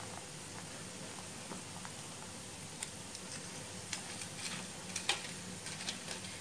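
Pempek balls frying in oil that is not too hot, giving a quiet, steady sizzle with small scattered pops and crackles throughout, no talking.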